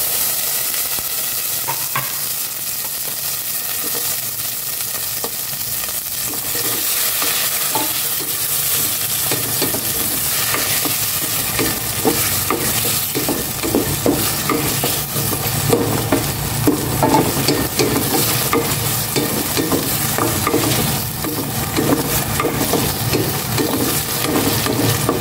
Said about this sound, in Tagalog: Gisa ko na rin itong bawang.